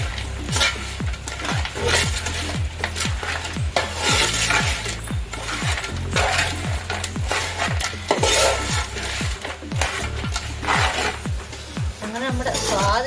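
A spoon stirs anchovy pickle in a pan with rhythmic, repeated scraping strokes close by, and a voice may be heard faintly underneath.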